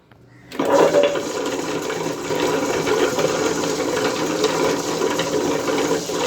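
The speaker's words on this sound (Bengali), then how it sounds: "এই মেশিনটার দ্বারা আমরা খুব সহজে তাড়াতাড়ি চালটা বেটে নিতে পারবো" A wet grinder starts up and grinds soaked rice and dal, a steady rumbling, rattling mechanical churn that kicks in suddenly after a brief quiet moment and runs loud and continuous.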